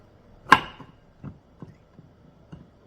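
A kitchen knife cuts through tough bamboo shoot tops on a board: one sharp, loud chop followed by about four softer, evenly spaced cuts, close and clear in a quiet room.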